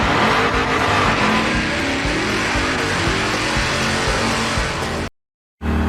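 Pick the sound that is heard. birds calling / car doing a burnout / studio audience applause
car doing a burnout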